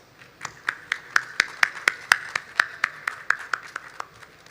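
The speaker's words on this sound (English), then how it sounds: "A big round of applause, please." Applause at the ACFI World Conclave conference, heard as a thin run of about fifteen sharp, evenly spaced claps building and then fading over a few seconds, like only a few people clapping in rhythm.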